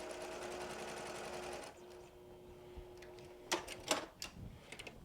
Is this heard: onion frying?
no